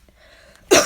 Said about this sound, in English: just coughed.